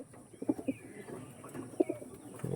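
Old-generation pigeons coo in a few soft, close bursts over a quiet background, with faint chirps between the calls.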